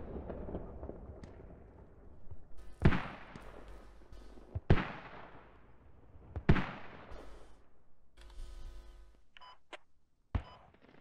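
Mortar shells strike in the Squad military shooter, four sharp booming blasts spaced a couple of seconds apart with rumbling decay, followed by fainter electronic tones and a last short crack.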